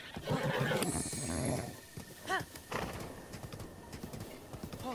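A horse gallops in the video game Breath of the Wild, its hooves beating out a steady, loud clip-clop, with a short whinny-like call partway through.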